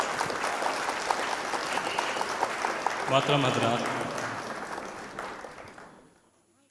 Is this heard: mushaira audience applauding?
yes